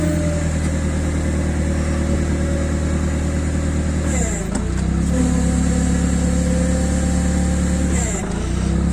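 A 1.5-tonne forklift's engine hums steadily while the mast tilts, with two short dips and swells in engine pitch as the hydraulics work, heard close and continuous.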